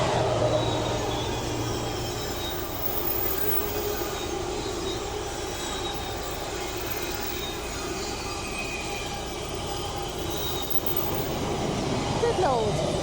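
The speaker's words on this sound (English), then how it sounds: "Look at that, here comes the train." A long freight train rolls past continuously, a steady rumble with metallic wheel squeal and rail clatter, heard from a nearby narrowboat with occasional voices talking over it.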